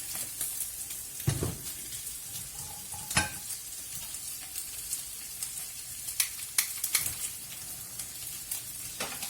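Two or three spoonfuls of oil heat in a frying pan for a chicken wrap and sauce, giving a steady low sizzle broken by a few sharp clinks of a utensil against the pan.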